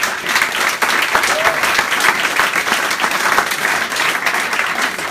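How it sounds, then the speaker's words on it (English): Loud sustained applause from a large live-event audience, a dense continuous roar of many clapping hands with faint cheering mixed in. "a big applause for yourself"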